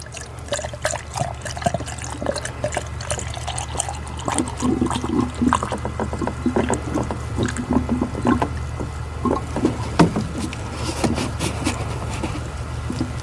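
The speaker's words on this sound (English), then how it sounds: "We filled up the radiator through this hose." Coolant being poured into a Saturn Sky radiator through its upper radiator hose, a steady close trickle and gurgle of liquid with scattered clinks, no talking.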